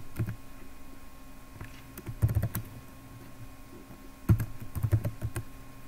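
Someone types a password on a computer keyboard, giving quick bursts of close key clicks in two short clusters separated by a quiet pause, with no voices.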